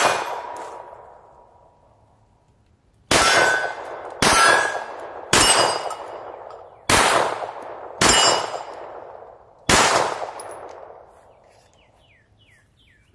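PSA Dagger 9mm pistol with a Zaffiri compensator fired at targets: six loud, sharp shots spaced unevenly over several seconds, each leaving a ringing echo, heard close and alone.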